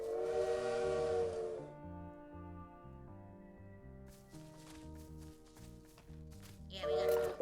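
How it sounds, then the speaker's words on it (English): A bright, sustained train whistle in a video game sounds for over a second, then gives way to a plodding game music melody, with a second whistle blast returning at the end. "It really is the sound of the train whistle."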